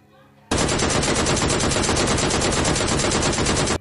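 A DP-28 machine gun fires in PUBG Mobile Lite, a loud unbroken burst of rapid shots lasting about three seconds after a short quiet lead-in, close and dominant with no speech over it.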